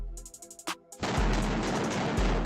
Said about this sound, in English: this story includes video and audio of gunshots